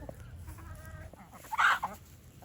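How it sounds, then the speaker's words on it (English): Chickens cluck softly nearby, with one louder squawk standing out briefly against faint outdoor background. "Got the chickens out running around."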